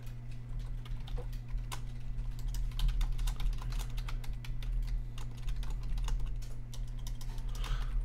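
Notes typed on a computer keyboard during a meeting: a continuous, close patter of key clicks over a steady low electrical hum, with no speech.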